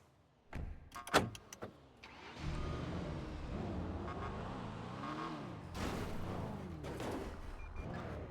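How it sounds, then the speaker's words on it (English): A car engine in a video game roleplay: a few sharp clicks and thumps, then a steady engine drone with wavering, rising and falling pitch sweeps, fairly quiet throughout. "The car sounds so weird, dude."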